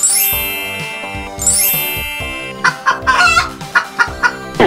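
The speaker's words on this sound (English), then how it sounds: "This is the chicken." Chicken clucks and a rooster-like call ring out over cheerful music, ending in a run of short, rhythmic clucks.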